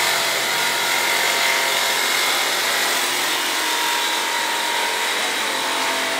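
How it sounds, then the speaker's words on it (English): A power tool cutting templates for windows in a geodesic dome under construction gives off a continuous, loud, bright hissing rasp that holds steady throughout without a break. "This noise is them cutting out one of the templates for those windows."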